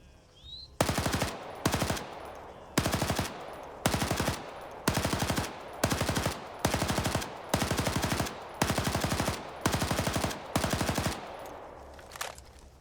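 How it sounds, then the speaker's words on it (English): Sustained bursts of machine gun fire from a ridge in an Arma Zeus ops game defending COP Keating, about ten loud, evenly spaced volleys of rapid shots with brief gaps between them. "Go ahead and get on this ridge and start unloading with a machine gun."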